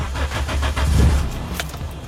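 A 2000 Daihatsu Taruna F500 engine with manual transmission cranks with a few rhythmic chugs, then catches and settles into a rough idle, close by.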